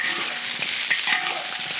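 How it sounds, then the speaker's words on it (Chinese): Pork ribs stir-fry in caramelized sugar in a wok with continuous loud sizzling and repeated scraping strokes of a spatula, close up. "我再炒一会儿"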